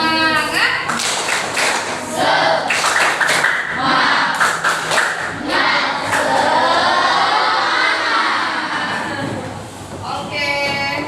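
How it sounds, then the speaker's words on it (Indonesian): A classroom of students performs a rhythmic spirit clap, sharp patterned claps in bursts with group chanting and voices over and between them, fairly close and loud. "speakingnya boleh kembali tepuk semangat"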